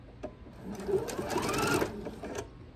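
A sewing machine stitches diagonally off the corner of a quilt binding, a steady close whirring run of needle strokes lasting a few seconds, with no talk over it.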